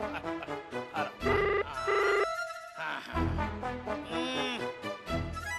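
A telephone rings in a Hindi TV drama scene, its bright repeating electronic tones coming in short bursts over dense dramatic background music, with no talking over it.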